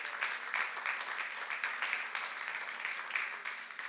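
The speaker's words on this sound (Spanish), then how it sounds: "Dar un aplauso al Señor" Congregation clapping during a church worship service, steady dense applause filling the room at moderate distance without a break.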